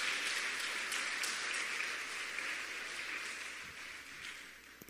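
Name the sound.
congregation applause in church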